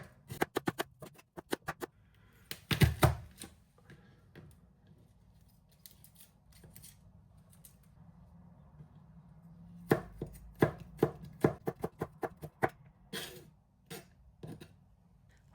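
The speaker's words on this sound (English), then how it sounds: "Now, let's slice the onion and mince the garlic." Onion being sliced and garlic minced with a knife on a cutting board, heard as bursts of quick, crisp, close chopping taps separated by quieter pauses.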